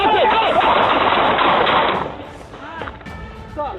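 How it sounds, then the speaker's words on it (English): A loud, dense burst of rapid gunshots in a police confrontation runs for about two seconds under shouting voices, then falls away while people keep yelling. "Shots fired."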